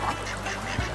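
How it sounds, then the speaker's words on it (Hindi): Ducks near cold flowing water at a shrine, giving a few nasal quacks over a steady outdoor background rush, fairly close and moderately loud. "ये बतखें भी देखें कितनी प्यारी प्यारी हैं ना।"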